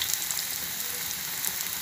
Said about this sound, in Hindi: ये देखिए जी, ऑयल गर्म हो गया, इसमें डालते जाएंगे